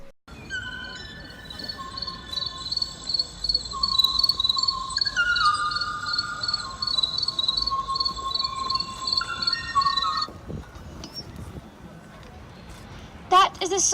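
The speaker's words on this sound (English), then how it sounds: "That is the song of the kawaii bird, the last male of the species calling for a partner who will never come." Song of the last male Kauai bird calling for a mate, a steady sequence of high, repeating whistled phrases, clear and fairly close, carried over a continuous insect-like chirring that stops near the end, followed by a brief clatter.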